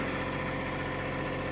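Kioti CK2620 compact tractor with backhoe attachment idling, a steady, even engine rumble with a low throb that holds constant throughout the short stretch, close by and alone.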